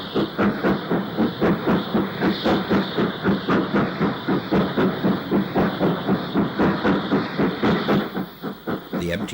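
A British Railways 9F steam locomotive, 92106, hauls a train of empty oil tankers through Stockport station, its wheels beating out a steady, rapid clickety-clack with hissing steam over a continuous rumble.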